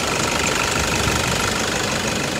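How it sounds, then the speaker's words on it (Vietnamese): Diesel engine of a 2016 Toyota Fortuner idling in the open engine bay, a steady close clattering knock with constant loudness and no pauses. "tiếng kêu của nó là tiếng nổ máy đây"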